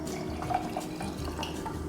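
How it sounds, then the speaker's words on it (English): Rainbow sherbet mocktail mix pours into a cocktail shaker as a short, continuous trickling and dripping splash of liquid, close by and fairly quiet. "you're just gonna take 4 ounces of this, pour it in there"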